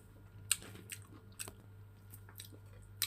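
Someone chewing a tomato mixed with egg and sardines, with soft, close mouth sounds and a few sharper crunchy bites spread over a quiet room hum.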